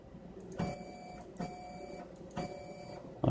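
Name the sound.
3D printer motor feeding filament at speed 1000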